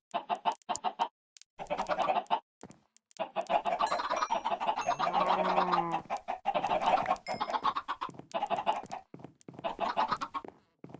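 Chickens clucking in Minecraft Java Edition 1.21.2, a flock heard close with repeated short clucks and squawks in irregular bursts separated by brief quiet gaps.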